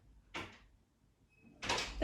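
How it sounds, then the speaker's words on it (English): A bedroom door is pulled shut with two muffled thumps and scrapes roughly a second apart, close by in a quiet room. "Belle, could you shut my door, please?"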